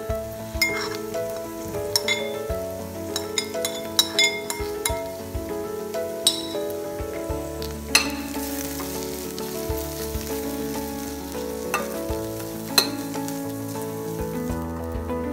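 Turmeric powder and grated coconut being stirred in a hot pan, a steady sizzle with repeated scraping and clinking strokes of a spoon against the metal, close and continuous with no talking.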